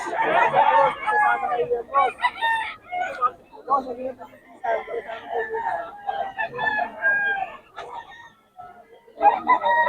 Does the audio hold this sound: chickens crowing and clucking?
yes